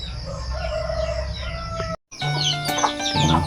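Chickens cluck and a rooster crows nearby, with a brief silent gap before more clucking and calls continue.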